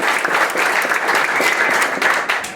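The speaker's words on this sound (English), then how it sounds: "let's give him a round of applause" A crowd at a history lecture on Bleeding Kansas breaks into a round of applause, dense close clapping sustained for a couple of seconds before easing off.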